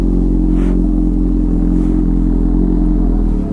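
A Honda Hornet motorcycle's exhaust rumbles loudly and steadily up close, a deep, continuous engine drone with no voices over it.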